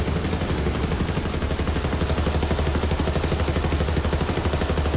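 A Faisor assault rifle fires in sustained rapid automatic bursts in Borderlands 3, a dense, loud, even rattle of shots with combat music running underneath.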